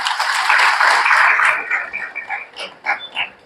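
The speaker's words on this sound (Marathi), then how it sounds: "त्या ग्राहकांसाठी एकदा आपण टाळ्या वाजवल्या पाहिजे" An audience at a customer-reward prize distribution ceremony in Kopargaon claps loudly for about a second and a half, then the applause thins out into a few scattered claps.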